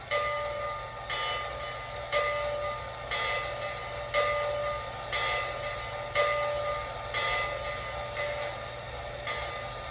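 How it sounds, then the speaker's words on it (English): On an NWCR Century Series model diesel locomotive, the bell rings in a steady, regular clang about once a second. A low engine drone runs underneath and nobody speaks. "Here is the bell sound."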